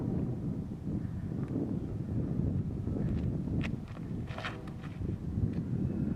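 Steady wind rushes across an open disc golf course, a continuous low broadband roar that holds level for the full length, with a few brief faint higher rustles on top and no voices.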